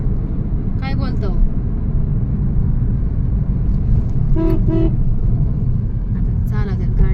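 A car climbs the Saswad ghat road through hilly country, its engine and tyre rumble continuous and close, with someone talking over it in short bursts.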